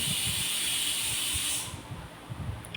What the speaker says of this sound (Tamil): இஞ்சி பேஸ்ட்டெல்லாம் எண்ணெயில் போட்டு நல்லா கிளவி விடுறப்ப